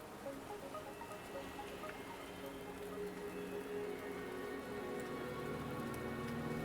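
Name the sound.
rain falling in a video game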